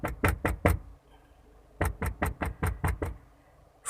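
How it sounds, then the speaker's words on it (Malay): Knocking comes from inside a mortuary coffin, a sharp rhythmic series of four raps, a pause, then seven or eight more, close and distinct over a quiet background with no talking. "seperti ada orang ketuk dari dalam"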